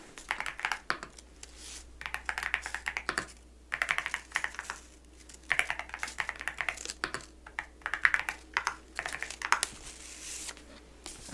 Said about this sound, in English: I'm going to go ahead and type this one in.